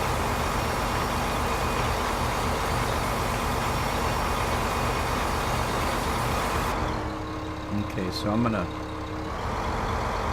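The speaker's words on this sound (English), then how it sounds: "They're good looking, good sounding tractor. They sound like a proper diesel tractor." Ursus diesel tractor engine in Farming Simulator 2015 running at a steady, loud drone, then dropping to a lower idle as a voice speaks briefly over it.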